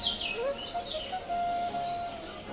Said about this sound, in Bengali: আর অবশ্যই তোমরা হয়তো পাখির ডাকটা শুনতে পাচ্ছ